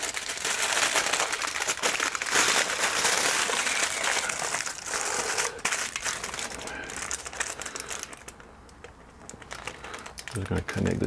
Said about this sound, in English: I'm just going to put a bit of foil paper underneath here